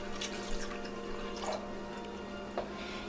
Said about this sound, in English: I'm going to pour just a little bit of that in there